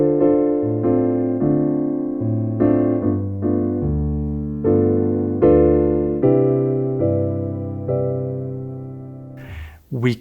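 Solo bossa nova jazz piano, left hand playing low bass notes under right-hand chords in a steady, gently syncopated pattern, moderately loud and alone, ending with a short clattering noise.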